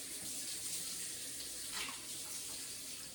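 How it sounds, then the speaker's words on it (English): Water runs steadily through the hoses of a portable dishwasher, a constant close rushing hiss like a faucet with a slight surge midway and no talking. "I wanted to hook these hoses out and just let the water run straight through"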